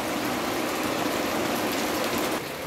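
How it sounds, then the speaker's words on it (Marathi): Steady rain pours down in a dense, even hiss that continues without pause, slightly easing near the end. "मस्त पाऊस पडतोय"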